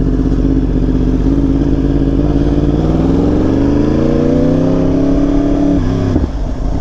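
A Yamaha R1M motorcycle runs loud and close while being ridden, its engine droning steadily, then rising in pitch as it accelerates before it drops off sharply near the end.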